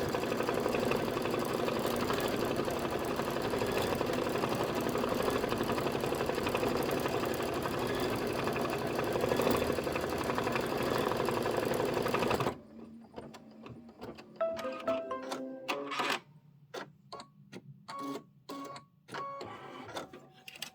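A sewing machine tacks down fabric on a crossbody bag, a steady dense mechanical whir running continuously for twelve seconds, then stopping and giving way to sparse clicks and handling taps.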